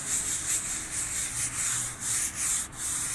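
A sponge scrubs a stone surface in rhythmic back-and-forth strokes, a close, steady rasping rub with no voices.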